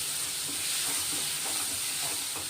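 Bitter gourd pieces sizzle and fry in a pan, a steady, hissing crackle held close and even throughout, with faint stirring noises underneath and no talk.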